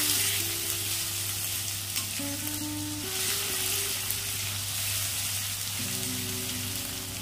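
Onions and a ripe tomato fry in a pan, giving a steady, close sizzle with soft stirring scrapes under a quiet tonal hum, with no voices.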